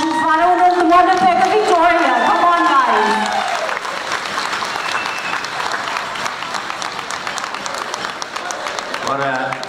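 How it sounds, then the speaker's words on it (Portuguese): Audience at a 44th anniversary celebration of a Portuguese community band breaks into loud, sustained applause. A voice and musical tones sound over the clapping at the start, then the applause continues alone. "vou dar uma salva de palmas"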